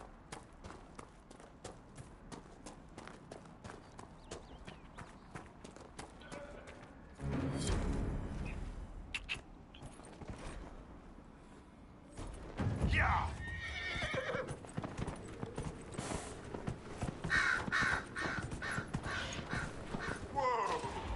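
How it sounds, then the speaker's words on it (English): In the video game Dragon Age: Inquisition, hooves clip-clop rhythmically as a horse moves, then breaks into louder galloping with sharp whinnies, and a voice speaks briefly partway through. "Mount the horse at the stable."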